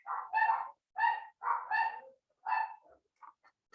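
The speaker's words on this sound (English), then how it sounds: "my dogs are just barking because they want to bark" Dogs bark at home in a quick series of about six sharp, loud barks close by, with short gaps between them, then a few softer yips trailing off.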